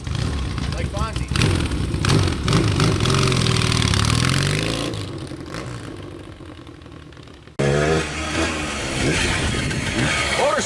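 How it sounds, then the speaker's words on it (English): A 1979 Yamaha XS650 vintage motorcycle runs after a kickstart, its engine loud and close with revs rising and falling, then a sudden cut to a steady idling passage. "you kickstart your vintage bike, you're not a puss with electric start, you just kickstart"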